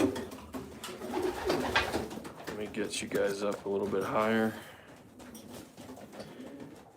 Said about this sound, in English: This is a nice pair of pigeons